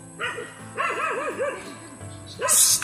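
A dog barks and yips in quick bursts nearby, a few sharp calls, followed by a brief high-pitched noise at the end.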